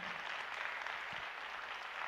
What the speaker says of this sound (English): I want you to clap for that